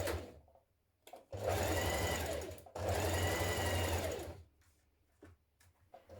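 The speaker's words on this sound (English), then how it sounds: "you're going to stitch that in place and then edge finish it" A sewing machine stitches the top seam of a dress-hack top made from fabric scraps, in two long steady runs with a brief pause between them and quiet handling afterward.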